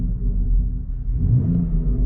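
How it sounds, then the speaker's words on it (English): A 2020 BMW X3 M Competition idles in Sport Plus mode, giving a deep, steady exhaust rumble and low burbling from the rear, close and unbroken. "Put it in Sport Plus. You can hear all the burbles in the back."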